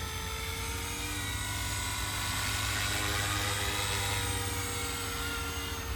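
An RC helicopter's rotor spins steadily at its first head-speed setting, a loud, even whine with a constant buzzing drone close by and no talking.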